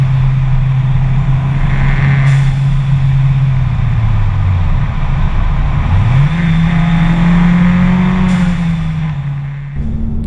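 An Audi TT Quattro Sport limited edition driving, its engine droning at a steady pitch, dipping briefly as it shifts gear, then rising again, with constant road roar and a couple of sharp hiss bursts, no voices.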